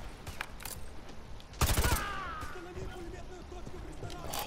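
Gunfire in a video game mission, a sudden loud burst of rapid shots after a quieter stretch, followed by lingering game sounds and a lower rumble.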